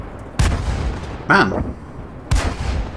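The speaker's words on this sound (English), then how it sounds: "that rate of fire on the Electo was crazy. Look at that, it doesn't stop. Just pop, pop, pop." The Electo tank fires heavy booming shots in a video game: two sharp blasts about two seconds apart, with a man's brief spoken word between them.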